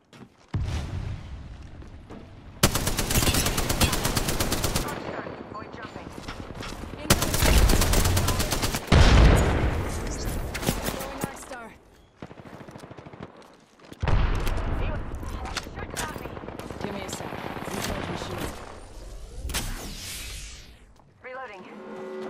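Bursts of automatic gunfire in an Apex Legends arenas match, loud broadband volleys of rapid shots with gaps between, interleaved with game effects while a player talks over the action.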